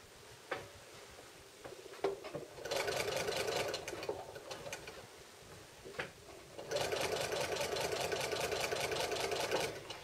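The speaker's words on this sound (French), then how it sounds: "donc je peux commencer à coudre." A sewing machine stitching a seam toward a point, running in two bursts of rapid, steady mechanical chatter separated by a quieter pause with a few clicks, fairly close and with no talking.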